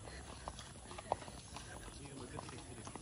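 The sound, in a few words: horse hooves clip-clopping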